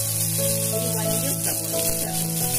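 Mustard seeds and finely chopped onion sizzling in well-heated oil for a mutton masala curry, a steady continuous hiss and crackle throughout with a faint low hum underneath.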